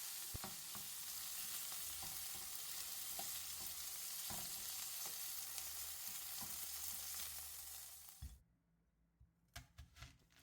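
Beef browning in a frying pan gives a dense, even sizzle with occasional stirring taps, then the frying cuts off abruptly near the end, leaving a few quiet knocks and clatters, no voices.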